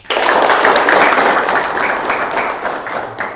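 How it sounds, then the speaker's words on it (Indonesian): Children in a group clap their hands together in a loud, dense burst of applause that starts abruptly and holds steady, then slowly tapers off. "Tepuk tangan."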